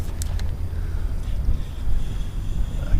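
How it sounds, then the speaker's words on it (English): A fishing boat motor hums low and steady on the water during a spring bass trip, a continuous rumble with wind buffeting the microphone and no talking. "So far so good with my motor."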